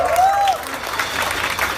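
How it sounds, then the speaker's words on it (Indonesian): Audience applause at a live music event, a dense wash of clapping that stays loud and steady through the short stretch, with a brief whistle-like tone at the start. "Tepuk tangan."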